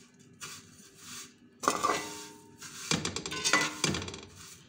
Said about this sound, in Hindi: उसमें ये सेवैयाँ डाली हैं और साथ 4-5 इलायचियाँ डाली हैं और मैं इनको थोड़ा सा भून रही हूँ